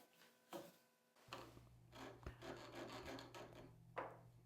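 A hand file scrapes around all sides of a small steel marking gauge cutter. A few close, separate rasping strokes sound over a low steady hum.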